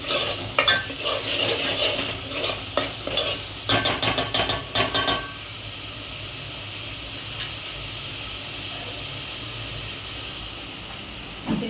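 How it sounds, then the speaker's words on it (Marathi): Vegetables for pav bhaji are sautéed and stirred in a pan, giving a run of sharp spoon scrapes and clinks over a soft sizzle, then a quieter steady frying hiss. "चांगली भाजून घ्यायची. तिला जरा कच्चापणा जाऊन पर्यंत तिला असं परतवत जायचं."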